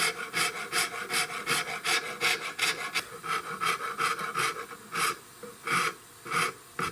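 Hand rasp filing and rounding an ebony cap on a 16-gauge European shotgun stock, loud close rhythmic rasping strokes repeated steadily, roughly two per second, with brief pauses between them and no talk.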